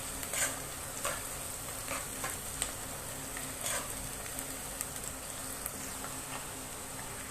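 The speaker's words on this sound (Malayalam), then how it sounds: "ഇതെല്ലാം കൂടെ ആ ഒരു റോ സ്മെല്ല് പോകുന്ന വരെ നമുക്ക് ഇങ്ങനെ സോട്ട് ചെയ്തുകൊണ്ടിരിക്കാം" Green chili, bay leaf, ginger, garlic and onion sautéing in a pan for salna, a soft steady sizzle with occasional light stirring scrapes, fairly quiet and continuous with no voices.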